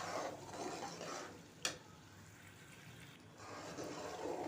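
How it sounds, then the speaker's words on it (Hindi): Semolina dry-roasting in a pan for halwa, stirred continuously with a spoon: a steady soft scraping and grainy rustle with faint sizzle, close and moderate, one sharp click partway through, no talking. "ये देखें, मुसलसल चम्मच चलाती रहें ताकि सूजी जले ना।"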